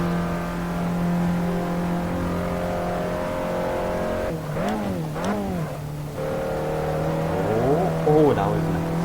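An Abarth 500 in Assetto Corsa drones at a steady engine pitch, then revs rise and fall through gear changes in two quick swoops, followed by a lower hum and another rising rev.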